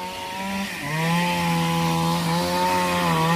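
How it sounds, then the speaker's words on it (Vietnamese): A chainsaw cuts low at the base of a tree, its engine revving up sharply and then holding a loud, steady whine close by. "Chú Dũng đang cưa ở phía dưới gốc."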